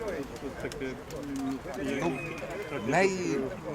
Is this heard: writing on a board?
no